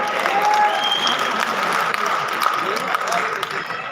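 Audience clapping steadily at a Saraiki cultural programme at the Multan Arts Council, dense and continuous throughout with a crowd murmur underneath.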